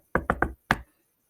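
A door knocked on: three quick raps followed by a short pause and one more, crisp and close in a quiet room.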